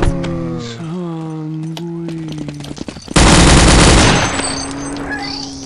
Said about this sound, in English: The trusty Tommy gun.